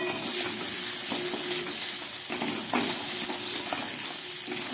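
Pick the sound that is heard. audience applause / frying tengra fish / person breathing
frying tengra fish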